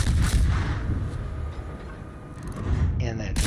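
Ship guns firing in the naval game World of Warships, a destroyer in ranked battle: dense, rumbling artillery booms fill the clip, loud and continuous, ending in a sharp blast.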